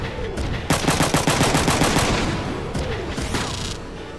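Gun counterattack in the video game Front Mission 3: a loud, rapid machine-gun-like burst of evenly spaced shots that runs for a couple of seconds, followed by a further short cluster of blasts.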